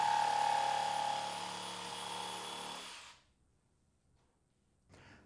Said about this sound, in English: keeping the jigsaw blade as close to the layout line as